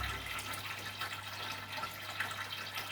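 A sump pump refills a 600-litre aquarium, giving a steady, close rush of running water with an even hiss that holds for the whole stretch.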